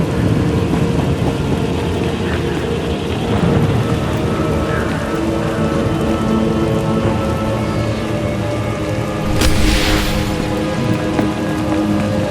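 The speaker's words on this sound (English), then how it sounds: "Hard to track them through the storm." Steady heavy rain pours in a Sith Warrior video game storm, with a constant wash of drops and low rumbling thunder, and a brief sharp crackle of lightning near the ten-second mark.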